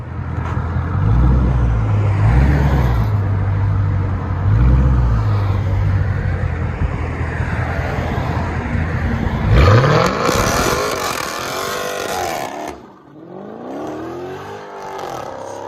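Demon-powered Chrysler 300 C with headers and Flowmaster Outlaw exhausts: a loud, close, rumbling engine run that builds into a hard sweeping pull before it drops back and idles lower.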